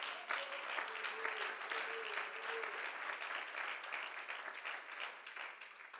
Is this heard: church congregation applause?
yes